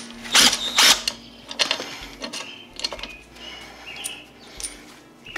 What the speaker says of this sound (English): if you have an impact, it just rattles them off, no problem